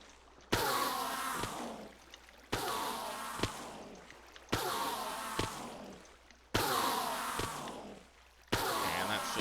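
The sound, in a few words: water flowing from buckets in the video game Minecraft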